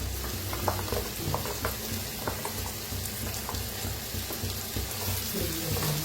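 Green masala paste for egg curry sizzling and frying in a pan, a steady dense crackle with occasional stirring scrapes, close and continuous with no talk.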